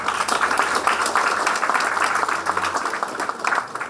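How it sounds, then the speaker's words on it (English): An audience gives a warm round of applause for panelists at a World Tourism Day celebration, continuous clapping filling the room at steady volume for the full few seconds. "Ladies and gentlemen, round of applause for our wonderful panelists."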